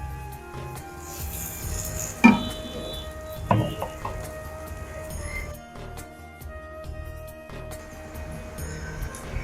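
An egg roti pizza on a chapati fries in a pan with a soft, steady sizzle, broken by a sharp pan knock and a few clattering scrapes of a utensil, with no talking.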